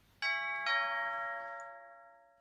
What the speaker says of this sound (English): An hour later, the doorbell rang again.